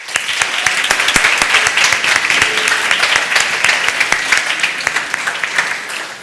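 Sustained audience applause in a forum hall greets a speaker walking onstage, a dense steady patter of many hands clapping at full volume throughout with no talking.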